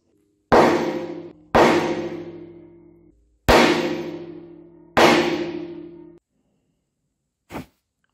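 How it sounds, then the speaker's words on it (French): Four heavy sledgehammer blows on black powder laid on a steel plate, each a loud, sharp clanging impact with a long ringing decay, spaced about a second and a half apart, followed by a fainter, brief knock. "je veux créer une étincelle en tapant avec la masse"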